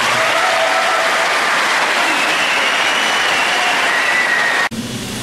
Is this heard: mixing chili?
no